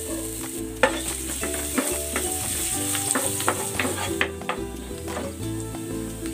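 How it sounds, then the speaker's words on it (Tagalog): Ginger sautéing in a hot pan makes a continuous near sizzle, with irregular stirring clicks and scrapes over a low steady hum. "Igigisa ko na tong luya."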